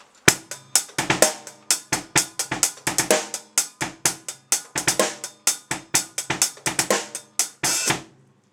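A drum kit plays a groove with doubled kick strokes, the right hand mirroring those doubles; crisp, punchy hits fall in a steady, repeating pattern, close and loud with no talking.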